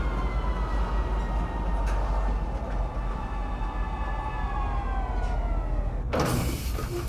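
A train pulling into a station in the video game Star Citizen, with a steady loud rumble, rising and falling mechanical tones, and a sharp hissing burst near the end as it stops or the doors open.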